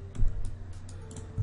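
Keys on a computer keyboard are tapped in a few scattered clicks, close and light over a low background hum.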